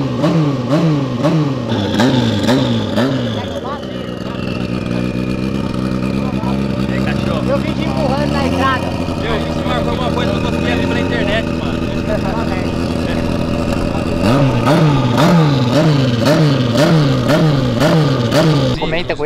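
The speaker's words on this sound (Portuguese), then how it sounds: "Ô, é turbo essa moto aí." A turbocharged Honda CB1000 motorcycle engine revs repeatedly in rising and falling bursts, settles into a steady drone, then revs hard again near the end, with people talking over it.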